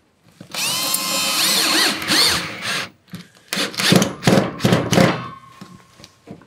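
A power drill drives a screw into a wooden trestle, its motor whining steadily for about two seconds, then a series of shorter, louder bursts as the screw bites and seats, close and dominant.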